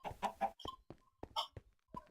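Chickens in the Minecraft video game cluck in a quick series of short, soft clucks and squawks, fairly faint, with no talking.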